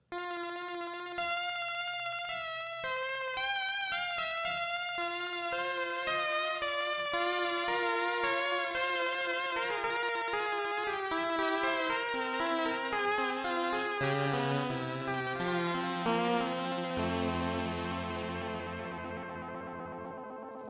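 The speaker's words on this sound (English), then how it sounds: "So here's a sound that I call Distant Shake, and it's got two different samples layered." A bright, chiptune-style GameBoi pulse wave plays a steady run of stepping synth notes, layered with a low trill sample sitting much quieter underneath; the notes sustain loud and continuous throughout, with no one speaking.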